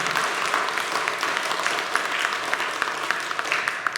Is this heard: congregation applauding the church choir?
yes